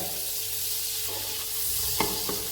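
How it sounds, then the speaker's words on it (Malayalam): Two tablespoons of garlic sautéing in a pan for chicken fried rice, a steady close sizzle with brief stirring scrapes near the end. "എടുത്ത് വെച്ച രണ്ട് ടേബിൾ സ്പൂൺ വെളുത്തുള്ളി അതിലേക്ക് ഇട്ട് കൊടുത്ത് നന്നായി"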